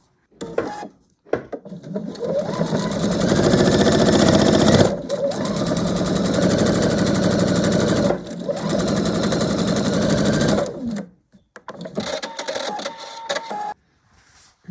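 A sewing machine stitches fabric onto a foundation paper-pieced scrap burst quilt block, running loud and steady in two long bursts with brief pauses between, then a few short stop-start runs near the end.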